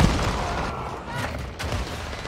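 Gunfire rattles in Call of Duty: Modern Warfare II, a loud, continuous wash of shots and booming impacts filling the whole moment, close and dense.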